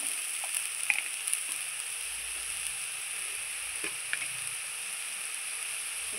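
Spice paste with dried lote fish fries steadily in a pan, a soft, even sizzle running throughout with a few small pops and light stirring scrapes, close and fairly quiet.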